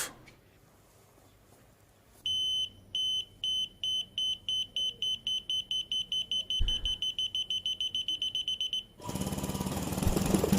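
Rapid high-pitched electronic alarm beeps repeat in a steady, insistent rhythm for several seconds, then stop and give way to a loud burst of broadband noise.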